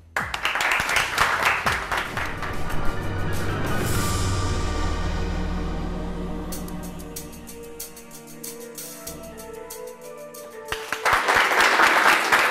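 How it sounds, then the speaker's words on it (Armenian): Studio audience at an Armenian TV quiz show bursts into loud applause at the start and again near the end, with music and tones filling the quieter middle stretch. "կրկին ծափահարություններ են մեր տաղավարում"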